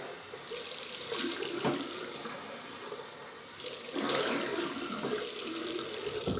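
A tap runs while a new stainless steel razor is rinsed: two close, steady bursts of running water splash into a sink, with a brief quieter lull between them.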